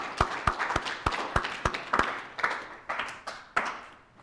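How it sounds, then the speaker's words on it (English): A small audience claps for sponsors at a student security club meeting, a thin, sparse run of individual hand claps, sharp and evenly spaced, fading out after about four seconds. "So round of applause for our sponsors for sure."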